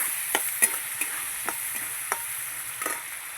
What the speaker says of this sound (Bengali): পেঁয়াজ বেটেছি জিরে বেটেছি আদা বেটেছি এটা দিয়ে দিচ্ছি নাড়াচাড়া করে নেব